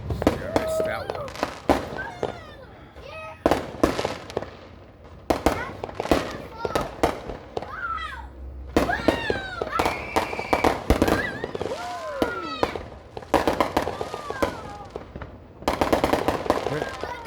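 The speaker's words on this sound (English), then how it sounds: "these guys got some fireworks" Fireworks and firecrackers explode repeatedly on the eve of the 4th of July, sharp loud bangs and crackling bursts in irregular clusters, some near and some farther off, with family members talking and exclaiming between blasts.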